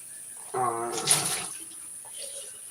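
Water runs briefly from a tap in a repair lab. It is a soft splashing burst of about a second that fades into quiet room noise.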